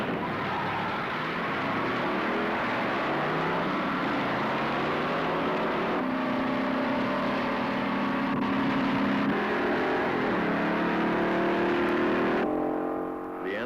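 A 1966 Chevrolet SS 396 accelerates hard on a quarter-mile drag run, a loud continuous engine roar with rising pitch that surges through shifts and holds steady throughout.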